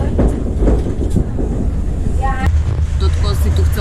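Steady loud rumble and rattle from inside a passenger train on a scenic route through Vietnam, with wind buffeting the microphone and people talking over the noise.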